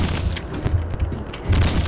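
Shotgun blasts in the side-scrolling action game Valfaris, a string of heavy booming shots in fairly quick succession layered over a thick, constant metal soundtrack, with no talking.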